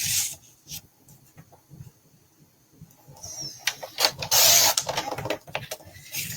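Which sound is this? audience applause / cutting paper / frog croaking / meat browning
cutting paper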